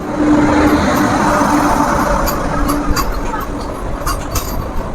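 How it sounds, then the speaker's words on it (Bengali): A white and red MEMU special train on the Rampurhat–Jasidih hill line in Jharkhand produces a loud, continuous rolling rumble with faint clickety-clack, heard close from on board. "এই যে লাইন দিয়ে পুরো একদম পাহাড়ের বুক চিরে যাচ্ছে ট্রেন"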